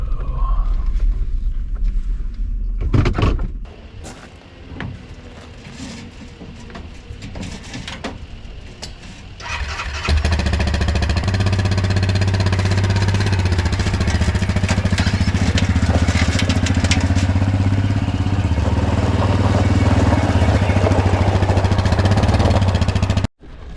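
A Grizzly ATV engine at Eklutna Lake, idling with some clatter at first, then revving up to a loud, steady running drone that holds close by.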